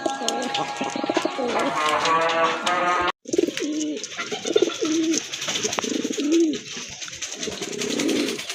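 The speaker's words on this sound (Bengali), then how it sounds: "দেখেন অসাধারণ এক জোড়া কবুতর, এটা কিন্তু চুইনা কবুতর" A pair of Chuina pigeons coo close by in repeated soft, throaty phrases, with a brief pause partway through and faint chirps and background noise around them.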